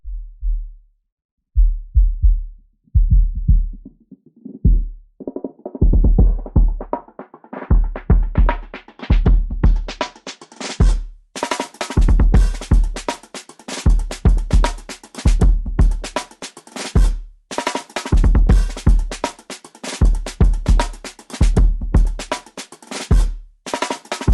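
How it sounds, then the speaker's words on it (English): A punchy soul drum loop with heavy kicks and crisp hits in a steady groove, fading in from a muffled low thump to full brightness. "Next for the drums, I use this orangey soul loop"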